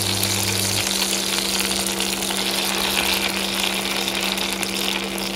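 Bay leaves dropped into hot mustard oil give a loud, steady frying sizzle that crackles continuously at close range, with a low electrical hum underneath.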